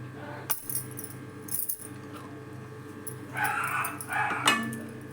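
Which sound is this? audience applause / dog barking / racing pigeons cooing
dog barking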